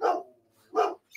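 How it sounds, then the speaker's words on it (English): A dog barks twice, loud and close, with a short gap between the two barks and a faint start of another at the end. "Coda is barking because he's so excited to see Tom"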